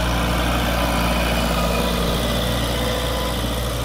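A YTO Ecomaster 404 40 hp tractor engine idles with a steady, loud, low diesel rumble and constant vibration, close by and with no talk over it.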